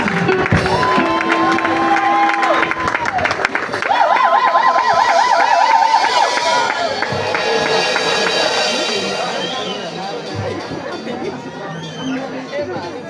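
A church congregation at an open-door celebration service cheers and acclaims loudly throughout, a dense crowd roar with shouts and whoops under rising tonal voices, easing slightly toward the end.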